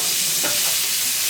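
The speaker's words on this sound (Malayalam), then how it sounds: "ഫൈനലി ചോപ്പായിട്ടുള്ള ഒരു ഒനിയൻ അതിലേക്ക് ചേർത്തിട്ടും അതും ഒരു ലൈറ്റ് ഗോൾഡൻ ബ്രൗൺ കളർ ആകുന്നവരെ നമുക്ക് വറുത്തെടുക്കാം." Finely chopped onion fries in hot oil with cumin and bay leaves while being stirred, a steady bright sizzle with a brief scraping stir partway through and no voices.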